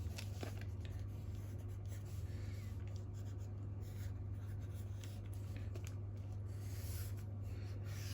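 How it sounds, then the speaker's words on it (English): A drawing tool sketches over a figure on a layout pad, giving a faint, steady scratching that runs throughout beneath a low background hum. "drawing on top of the figure, I'm just going to start to draw in"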